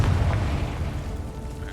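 A Confringo blasting spell goes off in Hogwarts Legacy, a loud, deep booming blast that rolls and rumbles steadily for the short stretch, with no talking over it.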